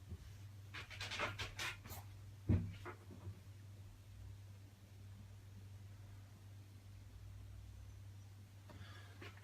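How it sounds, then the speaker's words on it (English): Two Samoyed dogs pant softly indoors, with a brief burst of breathy huffs and a faint whimper near the start, then a quiet, steady hush. "My guard dogs, Lily and Zara, my two Sammies, got a very keen interest on the carpet fitters."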